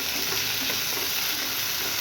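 Onions and finely chopped tomato frying in a pan, a steady close sizzle with light stirring throughout, no voices.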